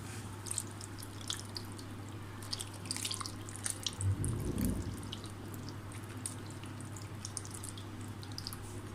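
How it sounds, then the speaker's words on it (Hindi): Yogurt is poured into a bowl for dahi bhalla in a home kitchen, giving soft wet splashes and gloopy drips with one fuller pour midway, faint against a low steady hum. "हुण असां पैंदे पिया विच दही।"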